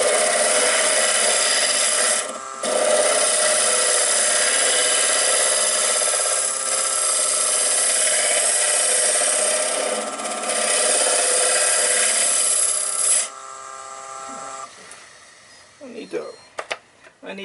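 Wood lathe spinning at 1,000 RPM while a half-inch round nose tool hollows a small shallow dish, steady loud scraping rasp for most of the clip that drops off near the end.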